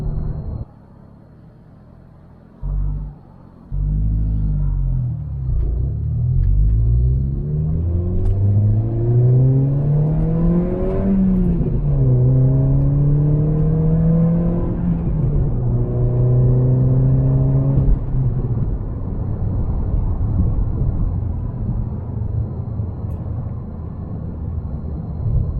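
A tuned Toyota Corolla engine drones from inside the car while driving, dropping briefly near idle, then revving up in a rising pull that falls back and climbs again, loud and close.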